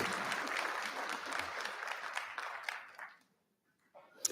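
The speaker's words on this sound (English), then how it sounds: "Another round of applause for Dominic." Another round of applause for a student honoree at a school board meeting, dense clapping that fades out after about three seconds, followed by brief quiet and a few faint sounds.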